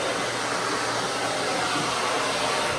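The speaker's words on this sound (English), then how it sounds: "She already was blow dried with the force dryer, but I'm just gonna get a couple little damp spots" A force dryer blows on a Wheaten terrier's coat with a steady, loud, high-pitched whooshing roar that holds without a break throughout.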